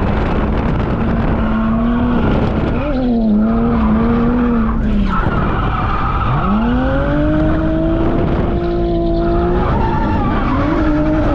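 A car drifts laps around a police academy course, its engine whining and rising and falling in pitch while the tires squeal continuously, loud and close.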